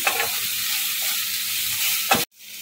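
Chicken roll filling sizzles and fries in a pan while being stirred, a loud steady hiss with soft scraping, cut off abruptly near the end before a quieter sizzle resumes.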